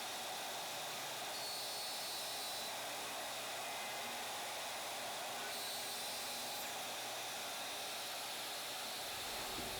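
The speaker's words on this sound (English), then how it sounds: "make sure we're running our spindle fast enough to remove material" Shaper Origin spindle cutting a box joint panel, producing a loud, steady high-pitched whine and rushing hiss that holds for the whole stretch and tails off slightly near the end.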